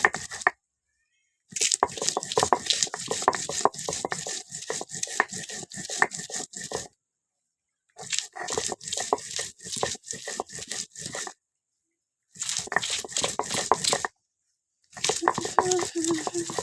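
Spices for cooking are ground by hand, with rhythmic scraping and crunching strokes close by. The strokes come in several bursts separated by short silent pauses.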